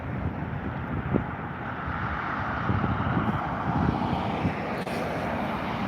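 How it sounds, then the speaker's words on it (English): An Aer Lingus Airbus A330-300 begins its takeoff roll at Dublin Airport, a steady, moderately distant jet engine roar that holds evenly throughout with light wind noise and no talk. "the Aer Lingus A330-300 to San Francisco, already lined up and ready for takeoff, if not already beginning its takeoff roll"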